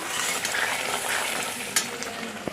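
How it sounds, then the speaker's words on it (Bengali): Spice masala for doi katla stir-fried in a pan, a steady close sizzle with scraping stirs and a couple of sharp utensil clinks, no talking. "দই কাতলার মশলা আমি কষাচ্ছি দেখুন"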